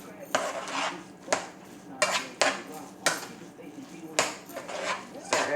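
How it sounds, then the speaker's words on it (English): Shrimp, rice and vegetables being stirred in a pot, with a spoon clanking against the metal in a steady series of sharp knocks about once a second, close and clear, with a voice talking faintly underneath. "Stir everything in so you can make sure that shrimp is in there evenly and everything."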